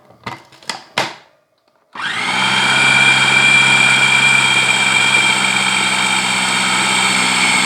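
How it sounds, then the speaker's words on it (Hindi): A few short clunks and clicks, then an electric blender starts and runs with a loud, steady motor whine, churning a chicken shami kebab mixture with yogurt, eggs and garam masala close by. "इसको हम अच्छे से ब्लेंड करेंगे।"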